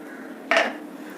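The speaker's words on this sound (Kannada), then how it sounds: "ಇವಾಗ ಕುಕ್ಕರ್ ಲಿಡ್ನ ಕ್ಲೋಸ್ ಮಾಡಿ" A single short metallic clunk of a pressure cooker lid being set and closed, fairly close, against a quiet background hum.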